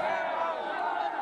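A dense crowd of protesters cheers and shouts together at CSMT station in Mumbai, a loud, continuous roar of many voices for just over a second.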